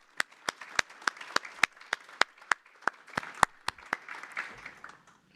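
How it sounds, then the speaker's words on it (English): Audience at a summit opening ceremony, where a few sparse people clap in a thin, uneven patter of distinct claps, fairly quiet and fading out. "Big round of applause for Scotiabank and helping us bring this event to you."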